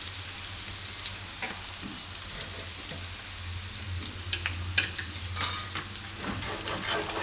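Asafoetida sizzles in hot oil with a constant crackling hiss, close by, and a few faint clinks of a utensil against the pan.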